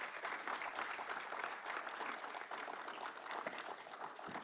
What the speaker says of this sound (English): you all should give yourselves a round of applause